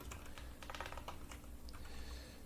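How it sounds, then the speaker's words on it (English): Typing on a computer keyboard while entering random text as a draft: a quick, steady patter of light key clicks, close and soft, continuous through the clip with no talk. "let's just type in random things."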